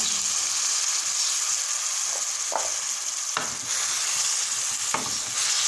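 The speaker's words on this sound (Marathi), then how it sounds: "मिक्स करून घेऊ हे पा हे पा आपण मिक्स करून घेतलेलं आहे" Greens and soaked moong dal hiss loudly and steadily in a hot pan, with occasional scraping strokes of a spoon stirring them, close and continuous, with no voices.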